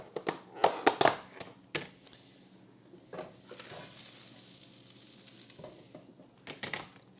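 Tofu dropped into a hot pan, giving a few sharp clattering hits followed by a soft, steady sizzle that rises and fades, with occasional stirring taps.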